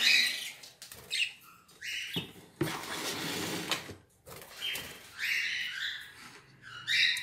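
Several nestling birds chirp and squeak in a nest, a busy cluster of thin, high peeping calls rising and falling in short bursts, close by, with brief noisy rustles between them.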